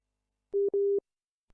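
A phone line gives a busy signal after a call drops: two short electronic tone beeps with a tiny gap, clean and alone against silence.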